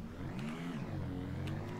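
A car engine in the Ranch Simulator video game hums steadily at low pitch while driving, its tone rising and falling slightly, with no talking.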